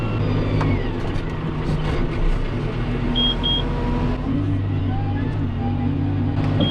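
A John Deere 6140M tractor with AutoTrac drives pass after pass across a field, its engine droning steadily and loudly with some rises in tone.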